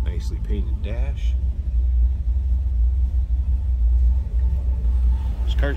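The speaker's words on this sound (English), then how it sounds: "Nice little rumble coming out of those Magnaflows" Deep, steady low rumble from a 1961 Chevrolet Bel Air with a 349 engine breathing through Magnaflow exhausts, running continuously close by while someone talks over it.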